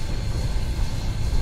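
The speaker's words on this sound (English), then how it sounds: "The sounds are in this locomotive is awesome" A steam locomotive in the Train Simulator game on a Cascadian route rumbles and chuffs in a loud, dense, steady roar, close and continuous with no talk.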